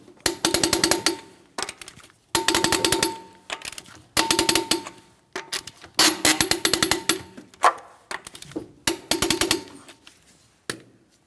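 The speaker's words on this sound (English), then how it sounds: "Let's go ahead and torque these to that 100 foot-pounds" A torque wrench tightens the lug nuts on a 2007-2014 Ford Edge front wheel to 100 foot-pounds, heard as about seven close, loud bursts of rapid ratcheting clicks separated by short pauses, with no talking.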